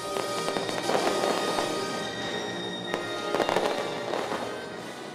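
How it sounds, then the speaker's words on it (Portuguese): Fireworks burst over a Christmas celebration finale on a main stage in Manaus, a dense crackling barrage with repeated loud pops and booms rolling continuously across the scene. "uma queima de fogos fechou a celebração do Natal em grande estilo"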